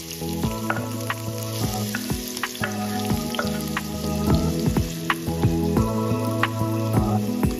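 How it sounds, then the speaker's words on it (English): Chopped red onion stir-fries in hot oil with a steady, dense sizzle, broken by frequent sharp pops and clinks of stirring, close and continuous, with no talking. "Chop 1 medium-sized red onion. Stir fry until fragrant."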